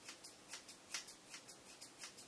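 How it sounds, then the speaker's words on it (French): Scissors snip hair in small, quick cuts during a home haircut, a faint, close run of about a dozen soft crisp clips in a loose rhythm. "j'y arrive en faisant des petits coups de ciseaux comme ça"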